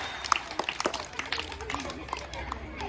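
Children clap in a group game, scattered uneven claps and taps of moderate loudness mixed with voices talking and calling out over them.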